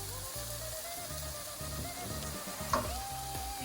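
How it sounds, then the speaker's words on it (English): Paneer sautéing in a hot iron skillet, a soft continuous sizzle and crackle with a brief scrape or stir near the end, close but fairly quiet, no talking. "I think my paneer will be sauteed well in that heat"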